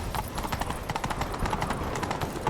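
Rapid, rhythmic horse hoofbeats clatter in a quick galloping pattern in The Witcher 3, close and continuous, over a faint background.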